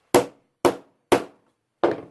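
A hammer strikes a piece of steel four times, each blow a sharp, loud, close metallic hit followed by a quick decay, spaced about half a second apart with no talking.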